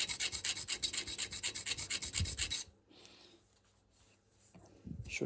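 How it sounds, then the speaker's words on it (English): A round chainsaw file rasps rhythmically across wood in quick, even strokes, close and clear, then stops, leaving near silence before faint handling noises. "Right, so chainsaw file, not the best one for this"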